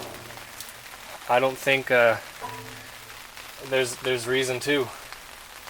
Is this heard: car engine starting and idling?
no